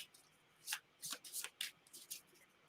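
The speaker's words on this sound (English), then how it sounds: "So shuffle, shuffle, shuffle." Cards being shuffled during a board game, a series of quick riffling and sliding bursts at close range with short pauses between them.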